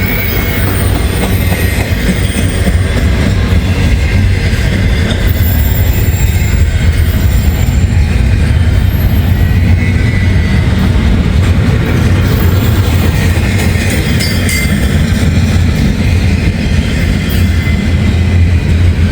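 A long CSX freight train rolls steadily past a crossing while slowing, a loud continuous rumble of wheels and railcars with occasional squeals and clatter, running unbroken throughout.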